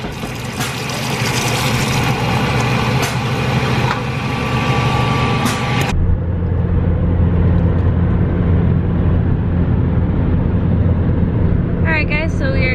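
Steady road rumble and engine drone from inside a car driving toward San Francisco on an RV trip, continuous and close, with a sharp change in tone midway and a voice speaking briefly near the end.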